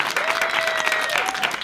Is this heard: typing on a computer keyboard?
no